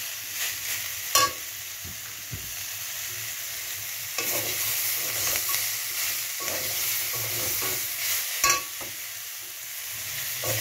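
Food sizzles steadily in a pan while a utensil stirs and scrapes it now and then, with a few sharper clinks.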